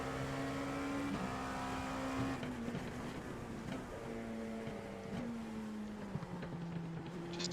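LMP2 prototype race car in iRacing at Summit Point, its engine droning steadily with pitch stepping up through gears and dropping on shifts, loud and continuous throughout with no talk.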